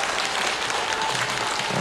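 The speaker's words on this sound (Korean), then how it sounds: "우리 박수 한번 크게 다시 한번 주시죠" A crowd at an outdoor concert in Marronnier Park, Daehangno, applauds with dense, even clapping that fills the whole short stretch.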